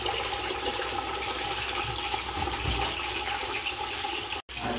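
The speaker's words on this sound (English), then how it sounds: "I'll put some water in at the same time." Water poured into a cooking pot on an indoor stove while fish cooks, a steady, close rush of liquid running for several seconds and stopping abruptly near the end.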